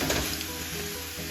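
Stock poured into a hot pot sizzles loudly and steadily, a close, continuous hiss of liquid hitting the pan bottom with no voices over it.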